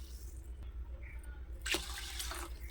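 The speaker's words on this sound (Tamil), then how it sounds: "நல்ல தண்ணி 2 கப் அளவு ஊற்றிக்கலாம்." Water is poured from a vessel into a bowl of soaked lentils and fenugreek for sorghum dosa batter, a short splashing gush near the end after quiet kitchen background.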